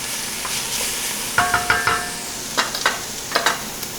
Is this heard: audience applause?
no